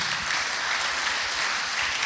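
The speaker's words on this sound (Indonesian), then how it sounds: "Ini baru tepuk tangan." Dense, steady applause from a church congregation at a Christmas service, continuous clapping throughout with no pauses.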